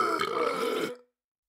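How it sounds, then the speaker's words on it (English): A single long, throaty burp after drinking soda rolls out for about a second at close range, then cuts off into silence. "You can do melodies by burping."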